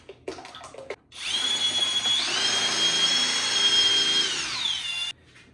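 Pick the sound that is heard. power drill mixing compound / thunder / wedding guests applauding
power drill mixing compound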